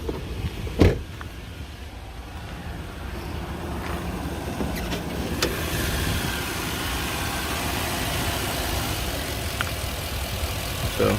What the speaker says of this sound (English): So engine's quiet and smooth